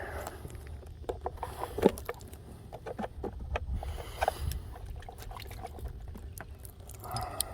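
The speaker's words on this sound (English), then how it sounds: "I'm actually going to rinse this salt water out of here." Fresh water pours and trickles inside the wooden hull of an RC outrigger boat as salt water is rinsed out, with scattered knocks and splashes, moderately close and fairly quiet.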